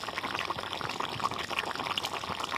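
A fried, ground paste of onion, garlic and cumin pours into a simmering koi fish curry with mukhi, giving a steady close wet pouring and sizzling rush without pause.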